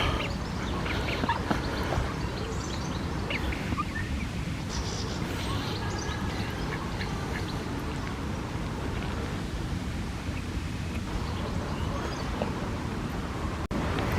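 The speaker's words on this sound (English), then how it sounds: "The 2 little ducks have survived." At Queens Park pond in July, small ducks quack intermittently against a steady outdoor wash of water and ambient noise, with faint voices in the background.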